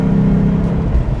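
A 1999 Ford Mustang SVT Cobra V8 pulls hard in third gear, a loud, steady droning engine note heard close from inside the car, briefly and without any voices.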